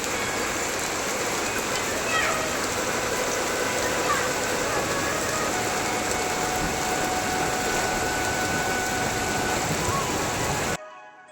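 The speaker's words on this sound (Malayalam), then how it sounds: "പുറത്ത് നല്ല മഴയും തണുപ്പും" Steady rain falling outside with cold weather, a dense even hiss close by, continuous and moderately loud until it cuts off at the end.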